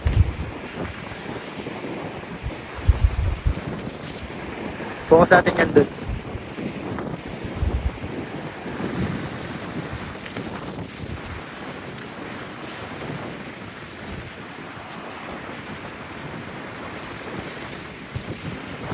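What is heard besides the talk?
wind blowing at sea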